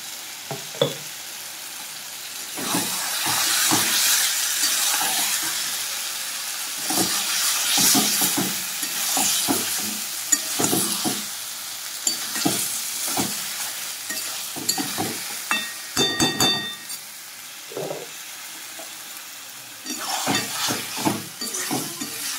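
Chicken kosha cooks over low to medium heat as the pieces are stirred and fried in a pan, with bursts of loud sizzling, spoon scrapes and clatters, pauses between stirs, and no speech.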